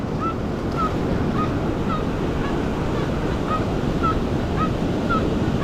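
Short repeated mid-pitched beeps from a metal detector sweeping a beach, chirping roughly every half second, faint over steady loud surf and wind noise.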